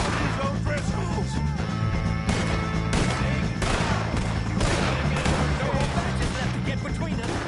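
Gunfire rings out in a Red Dead Redemption 2 shootout with O'Driscolls: repeated sharp shots crack over a dense, loud background of music and action, some close and some overlapping.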